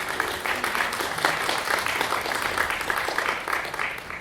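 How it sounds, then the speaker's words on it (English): A conference audience in Toronto claps for panelists, a steady patter of many hands at moderate distance lasting several seconds without letup. "a quick round of applause for all of our panelists"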